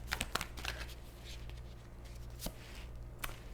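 Tarot cards being shuffled by hand, a few quick crisp riffles and flicks near the start followed by lighter scattered card snaps, close and quiet with no talking.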